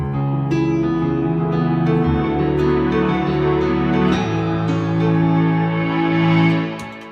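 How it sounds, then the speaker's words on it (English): Sustained, thick Mellotron brass chords on a Nord Stage 3 keyboard with a vintage tape-replay tone, steady and loud, shifting between held notes with no voices. "it's a brass sound from a Mellotron"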